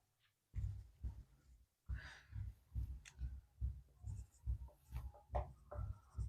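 Chalk or marker writing on a classroom board during a physics lesson on electric charge, a run of steady rhythmic strokes and taps, fairly close and moderately loud, with no talk over it.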